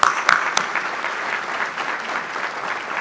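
An audience at a State of the City event breaks into applause, a few sharp early claps swelling into sustained, moderately loud clapping from a crowd.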